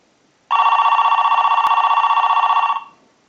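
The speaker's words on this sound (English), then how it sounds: "So we'll start a ring cycle with the analyzer" An electronic telephone bell in an AT&T 530 Trimline phone, rung by a line analyzer, rings in one loud, continuous trill lasting about two seconds, close and clear, then stops abruptly.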